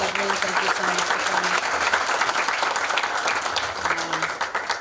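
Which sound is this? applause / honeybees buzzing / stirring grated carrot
applause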